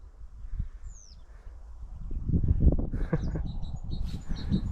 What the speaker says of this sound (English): I have no idea what that bird is. Sounds like somebody adjusting a radio.